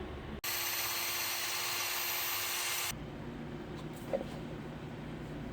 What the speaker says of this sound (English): we're going to use a 1/8 NPT tap in order to create the threads